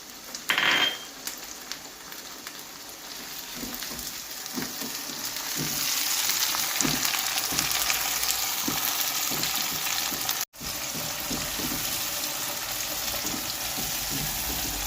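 Tomatoes and green chilies fry in a pan for aloo baingan, a continuous close sizzle that swells louder after a few seconds, with scraping stirs and clinks and a brief dropout near the end.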